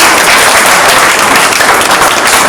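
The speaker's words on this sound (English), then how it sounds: "Let's give them another big round of applause." Loud, close applause for grade 5 students at a school assembly, continuous dense clapping filling the whole moment without a break.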